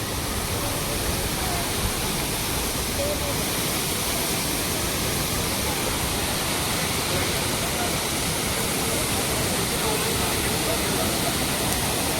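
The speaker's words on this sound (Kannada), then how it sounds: "ನೋಡಿ ಅಂಬೋಲಿ ಫಾಲ್ಸ್ ಹತ್ರ ಫೈನಲಿ ಬಂದ್ಬಿಟ್ಟಿದ್ದೇವೆ" Amboli waterfall in India roars with a dense, constant rush of falling water heard close up, loud and unbroken throughout.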